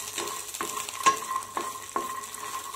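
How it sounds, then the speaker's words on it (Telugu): Phool makhana (fox nuts) fry in a pan with a soft sizzle, broken by a few distinct stirring knocks and rattles close up over a few seconds, no voices. "పిన్లో పెట్టి ఫ్రై చేసుకోవాలి"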